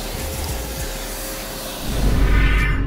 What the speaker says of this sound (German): Ich würde jetzt erstmal anfangen mit Staubsaugen.